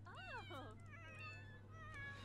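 A Sims 4 cat meows several times in quick, rising and falling calls, clear and close, followed by softer tonal game sounds in the background.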